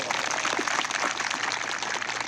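An audience applauding to welcome an MLA at a Birsa Munda Jayanti gathering, a continuous wash of clapping that stays steady and moderately loud, with voices mixed in.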